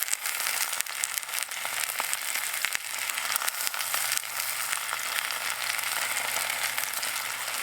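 A seasoned ribeye steak with garlic frying outdoors after dark, giving a steady, loud hiss of sizzling fat with crackles and pops throughout, and no voices.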